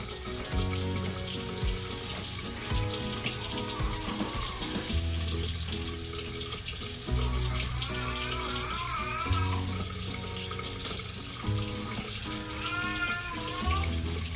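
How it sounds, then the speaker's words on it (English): Tap water runs steadily from a faucet as soap is rinsed off hands, a continuous splashing flow under background music throughout. "We're going to remove all the soap that's there."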